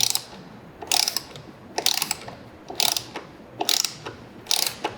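Ratchet wrench clicking in five evenly spaced bursts while tightening bolts on the Ohlins steering damper of a 2018 BMW S1000RR motorcycle, crisp and close with quiet pauses between strokes.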